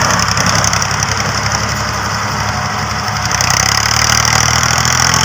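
A New Holland tractor pulling a corn seeder planter in a field runs with a steady, close, rumbling engine idle, and the tone firms up slightly after a few seconds. No one speaks.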